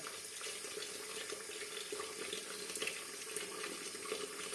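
Tap water runs in a steady, close rush into a sink while washing parts of a wood-burning kitchen stove, continuous with no pauses and no speech.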